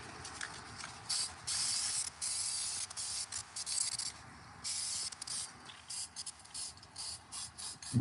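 Spray tack adhesive is sprayed from a can in a garage art workspace, in repeated hissing bursts of a second or so with short gaps, fairly close and steady, without speech.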